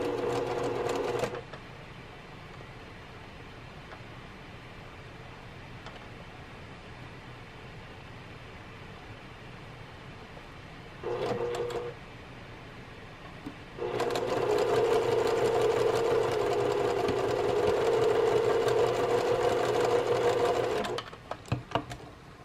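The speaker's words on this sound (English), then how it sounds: "I'm going to stitch along here on this seam 1/4 of an inch" A sewing machine stitches a quarter-inch quilt seam joining dark and light fabric pieces, running in short bursts: a brief run near the start, another around eleven seconds, then a long steady whirring stretch before stopping, with no talking.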